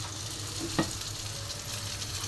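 Sarputi fish frying in hot oil, a soft, even sizzle heard close, with a single brief clink of a utensil partway through and no talking.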